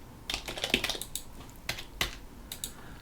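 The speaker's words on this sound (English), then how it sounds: "can I type this here?" Clicks of a computer keyboard being typed on in short irregular bursts, near and fairly quiet, with no one speaking.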